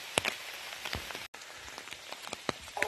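Heavy rain falls steadily in a forest during mushroom hunting, a dense, close hiss with scattered sharper drops pattering on nearby surfaces.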